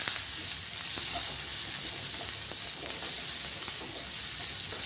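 Partly cooked potato pieces and green chilli sautéing in a pan for sabudana khichdi, a steady, even hiss of frying with faint stirring, moderately quiet and close, no voices.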